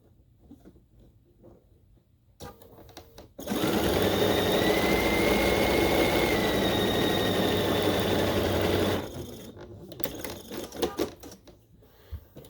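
A sewing machine stitches a quarter-inch seam on a quilt strip, running in one steady, rapid mechanical whir for about five seconds, with quieter handling noises before and after.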